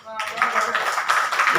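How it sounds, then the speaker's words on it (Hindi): Audience at a Hindi poetry recital (kavi sammelan) in Patna breaking into clapping after a brief silence, a dense burst of applause building and holding steady with some crowd noise mixed in. "एक बार ताली बजा के आदेश कर दीजिए"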